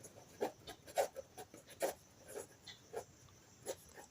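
Pen strokes writing out an algebra answer on paper during a maths lesson, a quiet, close run of short scratchy marks in an uneven rhythm, about seven distinct strokes, with no talking.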